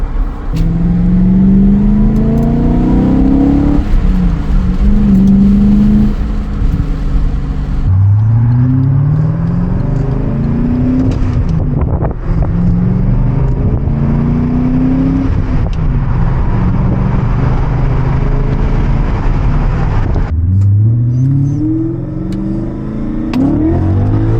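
A BMW M5 engine accelerating hard while driving, loud and close from inside, revving up through the gears in repeated rising pulls with brief dips at each shift.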